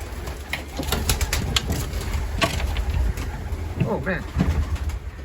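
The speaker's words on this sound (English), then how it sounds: "Two young birds up here" Young pigeons coo softly in a loft, low murmuring calls with some wing flaps, mixed with a steady background hum and a person speaking briefly.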